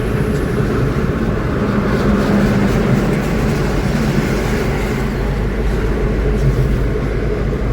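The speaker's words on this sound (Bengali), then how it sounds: "ট্রেনের চাকা যাচ্ছে দেখুন।" Train wheels roll past on a railway beside a road in a steady, loud rumble with a low drone and clattering texture throughout, heard from near a car during a road trip.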